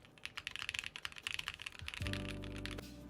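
Rapid keystrokes on a higher-pitched mechanical computer keyboard, a dense clicking patter that runs close and steady before a low hum and tonal bed rise underneath for the final second.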